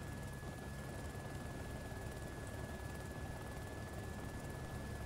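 Helicopter in the ArmA II video game, a steady, dense rotor and turbine roar with a constant tonal whine running throughout, loud and unbroken with no voices.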